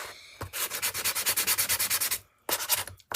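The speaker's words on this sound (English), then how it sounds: "So I'm going to take my little sander." A small electric sander works over witch-style costume boots in rapid, regular rubbing strokes, close and loud, stopping briefly before resuming.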